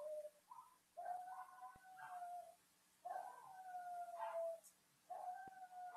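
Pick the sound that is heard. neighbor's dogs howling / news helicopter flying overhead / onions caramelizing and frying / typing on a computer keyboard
neighbor's dogs howling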